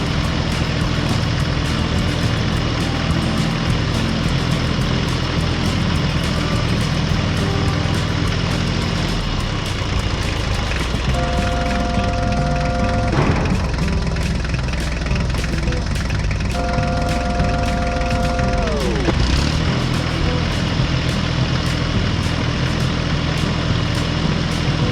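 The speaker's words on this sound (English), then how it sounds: "the tractor slowly drove over the newly paved road" Tractor engine running steadily as it drives over a newly paved farm road, a loud continuous rumble with a shifting tonal whine in the middle.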